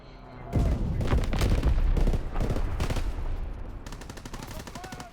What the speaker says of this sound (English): I switched to this gun. I forgot what this is called, some type of rifle in this game.